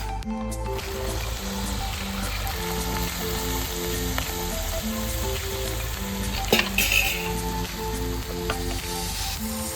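A sizzling pan of chickpeas with fried potatoes gets the chickpea boiling water poured in, a steady close hiss and bubbling fry that runs without a break under a low background hum.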